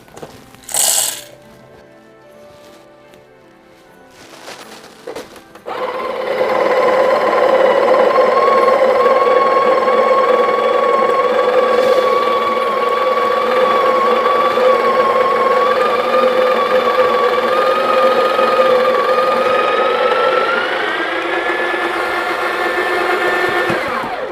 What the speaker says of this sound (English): Now here I'm going to grind some beans.